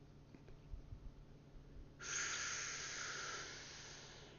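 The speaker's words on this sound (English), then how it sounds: "Make a sound like you're sipping hot chocolate." A slow, hissing in-breath through the mouth with a gently constricted throat, heard alone and close, starting after a quiet pause and fading gradually over about two seconds.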